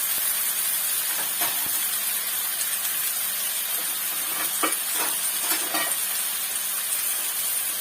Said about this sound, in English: we put the onion in the oil, and we fried it